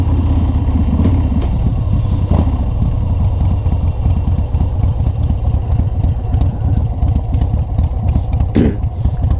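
A chopper motorcycle engine runs steadily while riding slowly on a cold, snowy road, a loud, continuous low rumble with a pulsing exhaust throb close to the mic.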